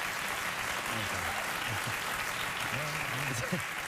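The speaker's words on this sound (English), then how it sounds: "You're playing back the amount of applause they gave you for your show in the beginning." Studio audience applause from a late-night talk show, played back as a broad, even wash of clapping filling the whole stretch, with a voice talking faintly beneath it.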